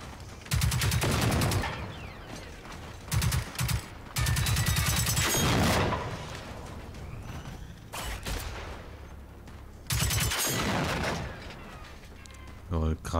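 Rapid bursts of automatic gunfire in the shooter game Generation Zero, several loud volleys separated by pauses, with scattered single shots and quieter mechanical noise between them.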